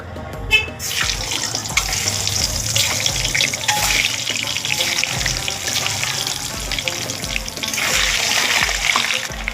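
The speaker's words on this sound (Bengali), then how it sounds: "এখানে আমি কড়াই বসে নিয়েছি, কড়াইতে তেল দিয়েছি। এবার ডিমগুলো ভেজে নেব।" Eggs fry in oil in a wok, giving a loud, steady hiss and crackle throughout, with faint rhythmic music underneath.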